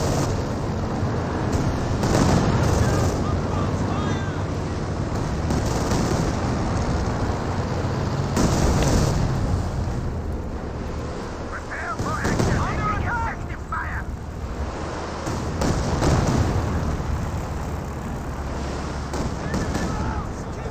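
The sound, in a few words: strafing run gunfire in Company of Heroes video game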